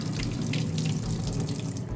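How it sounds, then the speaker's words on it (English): Water from soaked beans pours steadily out of a pot past a slightly shifted lid, a continuous close rushing splash with no speech. "we're gonna drain the beans"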